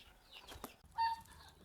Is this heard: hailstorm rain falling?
no